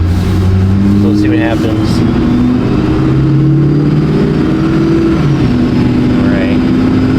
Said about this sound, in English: this will be my first time actually driving the truck